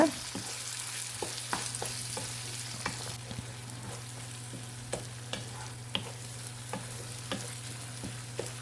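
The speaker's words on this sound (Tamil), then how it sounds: "அந்த அளவுக்கு நல்லா வதக்கி விட்டுக்கோங்க." Ripe tomatoes soften and sizzle in a pan, a quiet, steady frying hiss broken by regular clicks and scrapes of a spoon stirring them.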